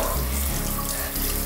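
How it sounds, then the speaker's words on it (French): Cold shower water runs steadily and close, a dense hiss of spray with no voices over it. "je vais me prendre une petite douche froide"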